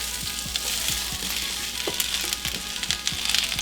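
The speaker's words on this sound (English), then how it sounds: "I'm gonna dump the onions in here" Chopped onions dropped into hot oil for a shrimp curry give a loud, steady, close sizzle and hiss with faint crackles throughout, and no voices are heard.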